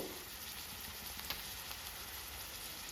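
Onions fry in a pan with turmeric for telagapindi curry, a soft, steady sizzle with occasional small pops, heard alone at low volume.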